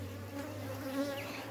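Honeybees buzz around a beehive, a dense steady close hum with no other sounds.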